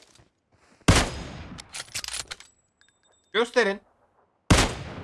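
Sharp gunshots in PUBG Mobile, a loud rifle crack followed by a cluster of quicker shots and another crack near the end, with a brief spoken word in between.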